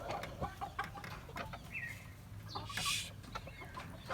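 A broody hen sitting on her eggs gives soft, intermittent clucks and a brief higher call at close range, amid other farmyard fowl sounds and a steady low background hum.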